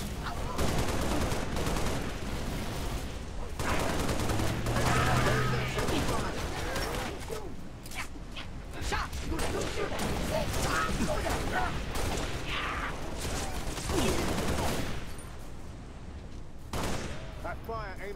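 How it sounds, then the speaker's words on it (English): Dense gunfire in the video game Halo Reach, sustained loud bursts of automatic shots and impacts layered with game effects, and voices come through in the mix. "Shooting."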